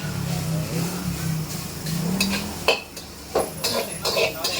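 Street vendor cooking food in a pan in Macau: metal utensils scrape and clank against the pan over a low sizzle, with sharp clattering hits and a faint voice in the background.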